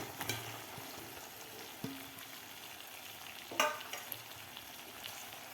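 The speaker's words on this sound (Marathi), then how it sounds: "आता यामध्ये घालायचे आपल्याला मसाला भरलेले घोसाळे घालायचे आहेत" Masala-stuffed ridge gourds sizzle and fry in hot oil in a pan, a steady crackle with a few louder clatters as they go in and are moved about.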